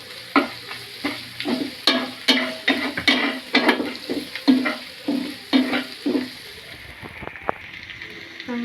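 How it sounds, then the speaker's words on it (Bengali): Cumin paste fries and sizzles in a pan while a utensil stirs it in repeated scraping strokes, close and rhythmic, easing into quieter sizzling at the end. "আমি এখানে এখন জিরে বাটা দিয়ে দিচ্ছি।"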